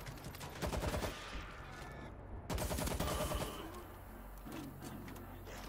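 Rapid bursts of gunfire from a weapon in the zombie shooter World War Z, two dense volleys of repeated shots about a second apart, loud and close, followed by quieter game ambience.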